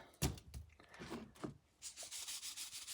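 A hand rubs salt onto an inch-thick tuna steak, making soft, close, dry scrubbing strokes in a few bursts, with a short pause and then a quicker run of rubbing, and no voices.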